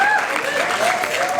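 An audience claps at an after dinner speeches event in 2019, a steady wash of applause over the short moment while a presenter's voice carries on above it.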